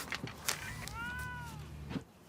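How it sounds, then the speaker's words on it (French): A pet cat named Homer lets out one clear, rising-and-falling meow at close range, with faint shuffling and soft background noise around it. "Oh, vous avez un chat!"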